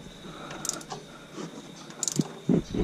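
A ratchet works loose the Y-pipe bolts under a 6.0 truck, giving quick metallic clicks in short bursts, close but moderate in level over faint background noise.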